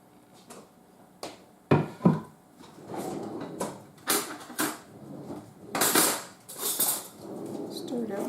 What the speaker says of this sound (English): Stir it out with a fork.